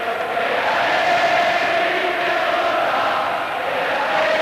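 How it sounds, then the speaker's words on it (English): A dense, distant roar of a large rugby Test crowd carries on steadily, its chanting voices merged into a continuous wash of sound. "look at this crowd. Unbelievable scene. Inside comes, you can hear it. Chanting."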